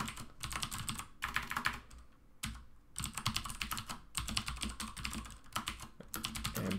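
Someone types an email on a computer keyboard: quick bursts of close, crisp keystrokes broken by short pauses.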